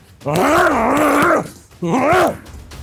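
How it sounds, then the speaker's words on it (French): A person lets out two loud, drawn-out guttural grunts while striking in krav maga training, the first long and the second shorter, close and forceful. "Les grognements, ça augmente l'agressivité, ça augmente la détermination."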